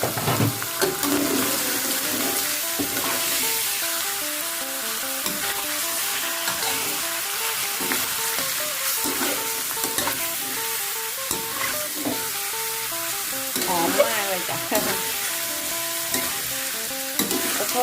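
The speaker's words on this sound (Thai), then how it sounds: "อาจารย์เดี๋ยวน้องจะเอาปลาลงผัดนิดนึงนะจ๊ะ" Catfish pieces are stir-fried in a pan for a forest-style curry, with a loud continuous sizzle and frequent scraping, clattering strokes of a utensil stirring close at hand, and no talk.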